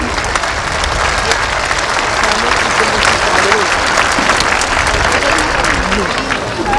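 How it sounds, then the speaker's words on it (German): Crowd applause rolls on steadily at an outdoor police motorcycle display team show in Baden-Württemberg, 1990, loud sustained clapping with a voice speaking over it. "Sieg und der Applaus dankt Ihnen."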